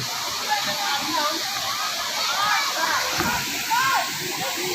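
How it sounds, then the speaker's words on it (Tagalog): Strong water rushes steadily out of Mina Tunnel at Mina Falls, a loud, continuous roar and splash close by, with faint voices now and then under it. "Ang lakas ng tubig na nanggagaling sa tunnel"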